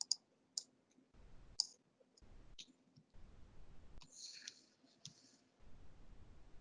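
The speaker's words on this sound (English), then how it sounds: "that was a mouse action" A computer mouse gives several sharp, isolated clicks spaced over a few seconds. The clicks are close and crisp against a quiet background with brief low breathy pauses between them.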